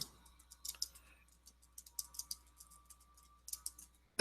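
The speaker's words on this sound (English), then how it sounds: "Let me type this in." Someone types on a computer keyboard in a quiet room: short clusters of light, close key clicks separated by brief pauses, with no talking.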